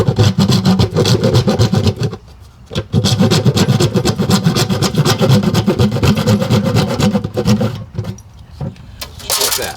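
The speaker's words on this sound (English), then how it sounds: "So I'm going to go use my handsaw, that's what I cut it off with. I'm going to cut a groove" A handsaw cuts a groove into the sides of a seed potato with quick, rhythmic rasping strokes. The strokes are close and fairly loud, with a brief pause partway through and another near the end.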